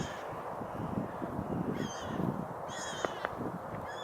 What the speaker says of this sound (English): There's some birds up there, you can probably hear them. Seagulls, I think.